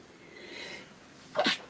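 A single sharp sneeze bursts out near the end after a soft breathy intake, close and fairly quiet overall.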